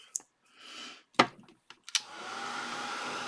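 A heat tool blowing on Distress spray stains on a mixed media background, a faint steady whir that starts midway and runs to the end, following a few sharp clicks and brief bursts.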